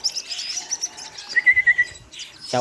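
High, thin chirping and tweeting from newly hatched baby partridges, fairly close, in quick repeated bursts with a few brief pauses.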